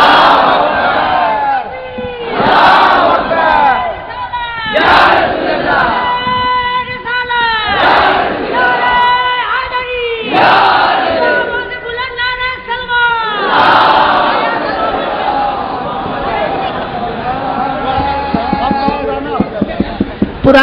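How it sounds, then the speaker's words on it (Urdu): A large crowd chants a religious slogan in loud, rhythmic call-and-response bursts that rise and fall in repeated waves, with a leading voice between the shouts. "ایک بار نعرہ بلند کیجیے، نعرہ بلند کیجیے، نعرہ لگائیے"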